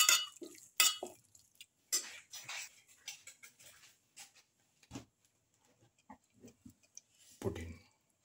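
Pepper, potato, garlic, chicken and rice are stirred in a bowl, giving scattered taps, clicks and scrapes of a utensil at an uneven rhythm, close and fairly quiet, with a brief murmur of voice.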